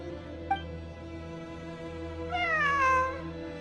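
A cat in the video game Genshin Impact meows once, clear and drawn out with a falling pitch, following a brief click over a steady low game-ambience drone.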